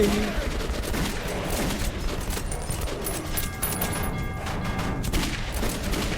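Sustained gunfire from a shooter game set in the Metro 2033 Redux tunnels, dense bursts and booms rattling continuously with faint background chatter underneath.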